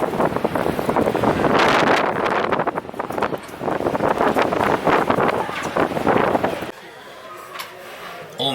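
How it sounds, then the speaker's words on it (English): Strong wind buffets the microphone on the deck of a ferry nearing Harwich, roaring in loud irregular gusts for most of the clip before suddenly dropping to a quieter background. "Oh man, it's windy."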